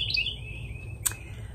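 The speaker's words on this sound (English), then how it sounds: "Do y'all hear all the birds out here?" Several birds chirp and tweet outdoors on a morning, with bright high calls clustered at the start and one sharp call about a second in, above a steady low background hum.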